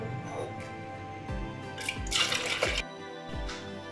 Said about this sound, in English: So I'm adding a bit more water.